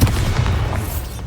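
The Bombarda explosion spell in Hogwarts Legacy goes off as a heavy booming blast with a sharp start, followed by a rumbling low decay and crackling debris that fades over about a second.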